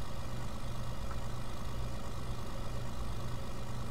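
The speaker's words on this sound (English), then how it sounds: "The engine tone's different now." A tractor engine in Farming Simulator 19 idles at a steady, even drone, with a constant low rumble that holds unchanged throughout and no talk over it.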